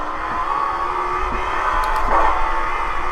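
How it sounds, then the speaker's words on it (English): Race car engine in the iRacing sim, a Cup Series car at Dover's Monster Mile, drones steadily and fairly loud as another car goes by, with a slight swell near the middle and no talking. "Gonna wait for this one car to go by."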